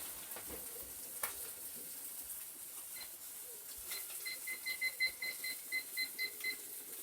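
Steady soft sizzling hiss of tomatoes searing in a hot pan, with a run of electronic beeps chirping over it partway through.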